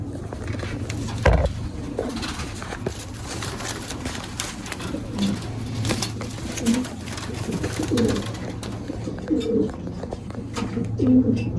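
Soft racing pigeon coos repeat at intervals over a steady low hum, with a brief louder thump near the start.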